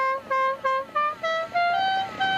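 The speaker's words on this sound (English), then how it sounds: "Added a motorcycle headlight and an air horn that plays Dixie." A musical air horn on a stripped-down Yamaha Arriva 200 motorcycle plays the Dixie melody, a series of loud, bright, reedy tones of changing pitch in a quick tune, close by with no talk.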